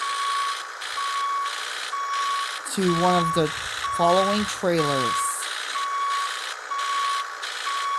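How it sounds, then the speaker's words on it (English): A truck in Cargo Transport Simulator backs up with a steady series of evenly spaced electronic reversing beeps, moderately loud over game noise, while someone talks partway through. "Anyway, let's back our truck up"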